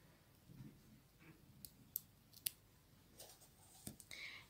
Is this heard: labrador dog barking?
no